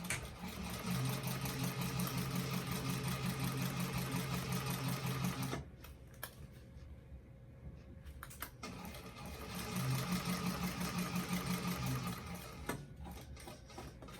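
A sewing machine runs top stitching on a bag, a fast buzzing mechanical whir in two long bursts separated by a few seconds of quiet, close and steady.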